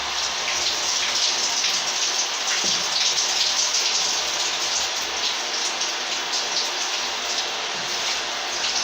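Newly installed electric shower running hot water, a steady, loud hiss of spray falling continuously with no voices.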